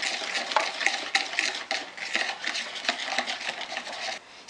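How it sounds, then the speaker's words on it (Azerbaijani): A spoon or whisk stirs cherry cake batter of milk and sunflower or olive oil in a bowl, giving a steady, close scraping and sloshing with light clinks against the bowl that run the whole time without talk. "Qarışdırıram."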